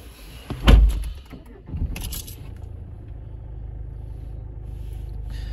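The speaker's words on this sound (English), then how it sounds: "What I'm now going to do is just get in the vehicle and turn her on" Someone gets into a Citroen C4 Cactus, with a loud door thump followed by a short start-up burst and then a steady low engine idle rumbling on alone.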